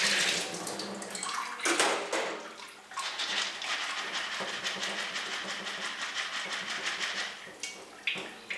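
Water pours steadily into a container holding watermelon seeds, a continuous splashing rush for about eight seconds with a brief dip near the three-second mark; no voices.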